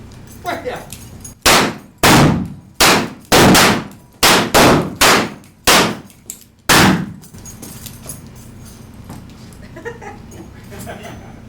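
Revolver gunshots ring out in a staged Wild West gunfight show, about nine loud sharp reports in an irregular volley, some doubled, with ringing tails and quieter background noise afterward.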